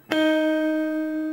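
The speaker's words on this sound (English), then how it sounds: "we're using a clean sound with a chorus, with the speed of the chorus set quite fast" Clean electric guitar with a fast chorus effect giving a quick rotating shimmer, a single chord or note struck once and ringing on steadily alone, close and fairly loud.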